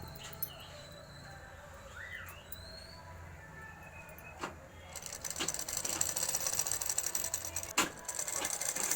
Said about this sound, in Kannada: ಸ್ಲೀವ್ ಬಾಟಮ್ ಸೈಡು ಕಿನಾರಿ ಸ್ಟಿಚಿಂಗ್ನ ಮಾಡ್ಕೊಳ್ಳಿ.